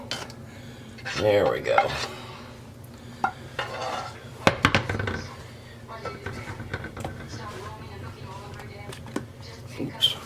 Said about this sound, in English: We're going to add the rest of the sauce to it.